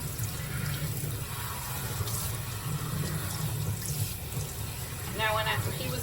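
Tap water running steadily while rinsing a child's curly hair, a constant close hiss of flowing water with a faint voice toward the end.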